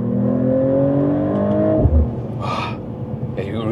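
A Mercedes-AMG CLE 53 accelerates through a lane change, its engine note rising steadily and loudly before dropping away as a gear shifts, with a brief thump and some road noise afterward.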